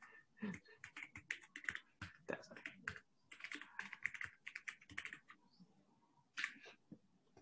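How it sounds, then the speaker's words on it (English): Rapid typing on a clicky mechanical computer keyboard, with close, crisp keystrokes arriving in quick bursts separated by short pauses, and no talking. "We can hear your keyboard very well."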